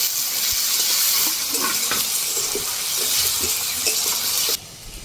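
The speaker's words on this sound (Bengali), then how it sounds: "রসুনটাও পেঁয়াজের সঙ্গে ভেজে নেব।" Garlic paste and chopped onions fry in oil for a fish curry, a loud continuous sizzle broken by the clinks and scrapes of a spoon stirring the pan, dropping away near the end.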